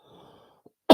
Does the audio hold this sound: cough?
yes